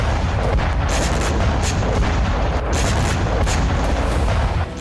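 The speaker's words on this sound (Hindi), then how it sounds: "रूस की 2 इन्फेंट्री फाइटिंग व्हीकल के करीब यूक्रेनी ड्रोन पहुंचता है और फिर टक्कर से जोरदार धमाका होता है।" Ukrainian drone striking two Russian BMP infantry fighting vehicles, heard as a loud, dense roar of blast and combat noise that fills the whole stretch without letting up.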